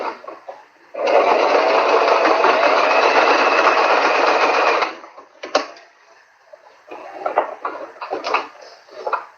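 A sewing machine stitches fabric in a steady, fast mechanical whir for about four seconds, close and clear, then stops, followed by scattered clicks and handling noises.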